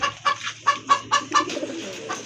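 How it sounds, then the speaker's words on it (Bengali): Giribaz pigeons, a quality pair offered for sale, coo in a steady run of soft, rhythmic throaty calls, close and fairly loud, with no talking over them. "আরেক জোড়া কবুতর কোয়ালিটি সম্পন্ন গিরিবাজ কবুতর কষা কবুতর"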